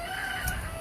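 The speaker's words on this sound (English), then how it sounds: "You're going to hear the roosters crowing like crazy." A rooster crows in the distance, a steady drawn-out call against a constant background hum, with no voices present.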